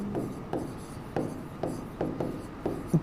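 Words being written by hand on a board or page during a biology lecture: a series of six or seven rhythmic scratchy strokes, close and moderately loud, evenly spaced over a low room hum.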